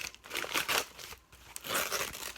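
Paper wrapping being pulled off a potted house plant, close crinkling and rustling in irregular bursts with a brief pause midway, no talking.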